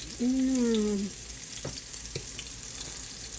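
Italian sausages hitting a seasoned hot skillet give a steady low sizzle and crackle, with a few sharp clinks of utensils against the pan; nobody speaks.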